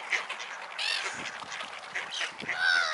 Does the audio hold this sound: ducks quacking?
yes